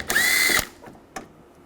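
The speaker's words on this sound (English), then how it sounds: "Use a 10mm socket. Take that screw out." A power driver with a 10mm socket whirs in one short burst lasting about half a second while removing a screw from the door of a 1999-2006 Chevrolet Silverado, followed by a couple of faint clicks.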